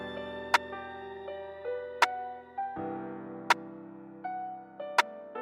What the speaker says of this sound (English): I started off with this rim right here